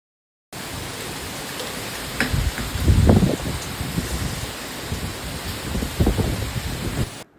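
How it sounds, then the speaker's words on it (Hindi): Steady cool wind rushing outdoors with rustling gusts that swell and ease, a broad whoosh with no voices. "बहुत ठंडी ठंडी हवा आ रही है"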